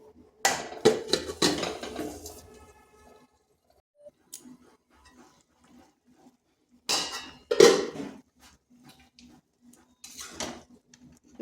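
Metal lid set over a pot of red lentils cooking for spinach dal, giving a couple of clattering knocks and scrapes of metal on metal at close range, with quiet gaps between.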